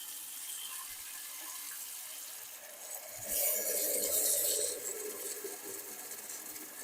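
Kitchen tap water runs into a pot for pasta, a steady hiss and splash that grows fuller and louder midway as the flow increases, then settles, with no talking.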